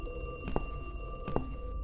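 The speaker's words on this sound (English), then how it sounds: "And the ringing phone" A telephone rings in The Cat Lady video game, two short ring bursts spaced under a second apart, moderately quiet over a steady droning background with no voices.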